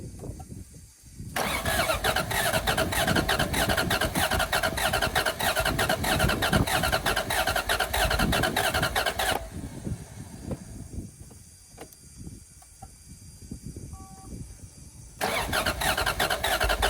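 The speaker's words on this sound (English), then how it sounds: "Let's actually see if it starts." A Toyota 1UZ V8 that sat unused for a few years cranks and fires, running loud and steady for several seconds, cutting out, then catching again near the end.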